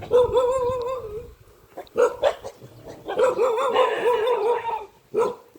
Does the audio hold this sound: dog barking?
yes